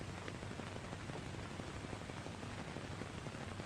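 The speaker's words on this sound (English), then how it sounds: "Oh, it's starting to rain." Steady rain patters on a surface, a dense, even hiss of drops with scattered soft taps throughout, no voices.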